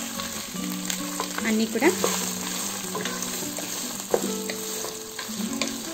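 Green capsicum, beans and carrot frying in a pan for an egg potato kurma, a loud continuous sizzle with scraping stirs and a few metallic clinks, a brief voice heard.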